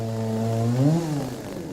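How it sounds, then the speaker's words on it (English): A chainsaw engine runs steadily up close, revving higher partway through before settling back to a rough, buzzing idle. "You are now ready to use your chainsaw"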